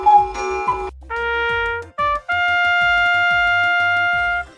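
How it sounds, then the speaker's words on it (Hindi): A trumpet plays a short fanfare of sustained brassy notes, loud and clear, each phrase held before the next, with a light rhythmic beat underneath. "हाँ, ये ट्रम्पेट की आवाज है।"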